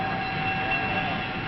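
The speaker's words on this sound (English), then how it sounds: "Here's Bob's train all put together, ready for the passengers." Santa Fe Super Chief passenger train from 1954, a steady dense rumble with a faint sustained tonal hum running throughout, close and continuous with no voices.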